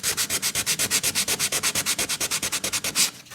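Rapid back-and-forth scraping of sandpaper on wood during a Mya-Moe instrument build, about ten strokes per second in a steady rhythm, close and fairly loud, stopping near the end.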